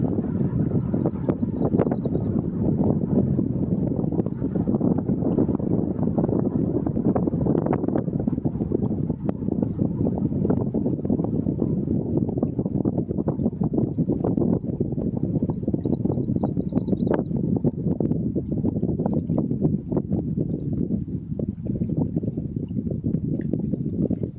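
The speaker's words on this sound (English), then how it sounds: "The wind is blowing." Wind blowing outdoors, a loud continuous rumbling gust against the microphone that never lets up, with faint bird chirps breaking through twice.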